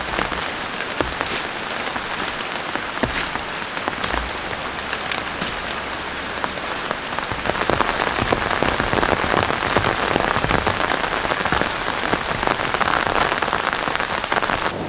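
Heavy rain pours down outdoors in a constant, dense hiss of drops hitting surfaces, growing slightly louder partway through and continuing without any voices.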